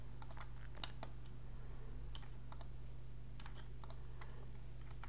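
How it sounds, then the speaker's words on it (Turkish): Keys on a computer keyboard are pressed during Revit drafting work: scattered sharp, light clicks in small clusters over a steady electrical hum, with no talking. "klavyeden Space tuşuna basmam yeterli olacaktır"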